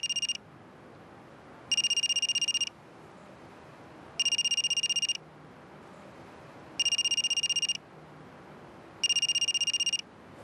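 A telephone rings in regular electronic bursts, five trills spaced about two seconds apart, loud and steady over a low room background in a courtroom setting.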